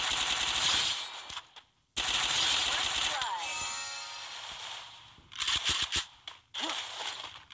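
Bursts of rapid automatic gunfire in the Free Fire mobile game, loud and crackling. Long volleys break off into scattered shorter shots toward the end, with a voice talking over the action.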